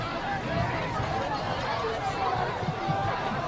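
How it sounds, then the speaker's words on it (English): Crowd chatter and babble fill the stands at a nighttime high school homecoming football game between Foxcroft Academy and John Bapst, a steady murmur of many voices at moderate level throughout. "Great crowd on hand."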